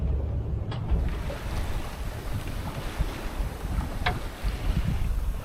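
A sailboat runs downwind through choppy Gulf of California seas, with steady wind buffeting the microphone and waves sloshing against the hull, all loud and continuous.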